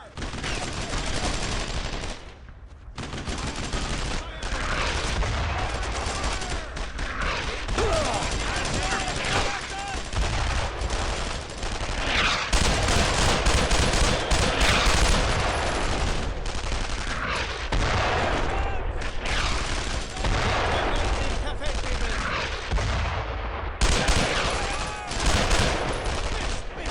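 Dense incoming gunfire rattles without pause in Brothers In Arms Road to Hill 30, loud overlapping rifle and machine-gun bursts filling the scene as voices shout over the barrage.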